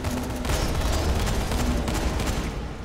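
Gunfire in the zombie game Dying Light: The Following, a dense, steady barrage of shots that fills nearly three seconds at close range with no pause.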